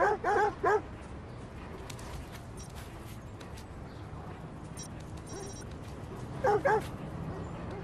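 A dog barks and yips in two short bursts, one at the start and another near the end, inside the video game Watch Dogs 2, with game ambience and faint background sounds in between.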